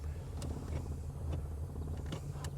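A 1972 Cadillac Eldorado's engine idles at about 600 RPM in a low, steady, even rumble. It runs alone at a moderate level and is joined by a few faint clicks.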